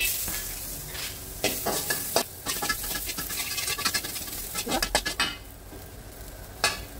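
Steady crackling sizzle of garlic frying in hot oil for nasi goreng on a home stove, with scraping and stirring clatter of a utensil against a pan; no voices.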